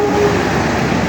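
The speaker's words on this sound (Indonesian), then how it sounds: "Lokomotif Langsir melintas langsung" A CC 206 shunting locomotive rolls past at close range, a loud, steady mechanical rumble with a faint tonal whine through the brief moment.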